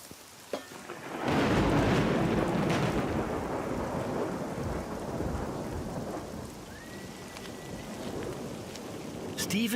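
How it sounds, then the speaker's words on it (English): A heavy downpour pounds down steadily around a French château in the Périgord, with loud rolling thunder rumbling through the rain near the start and a continuous dense hiss of rainfall afterwards. "Steve and Didier have little choice but to take cover and ride out the downpour"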